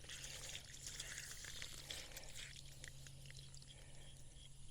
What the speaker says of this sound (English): So I know the water's coming out.